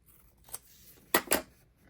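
Scissors trim a paper tab for bullet journal waterfall tabs: a faint early snip, then two quick, crisp, close-up cuts in succession.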